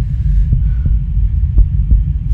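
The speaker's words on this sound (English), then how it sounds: "Wait till your heartbeat calms down." A heartbeat in the Pizza Delivery video game thumps in a slow, steady rhythm of about four beats over a low, continuous throbbing hum, with no voices.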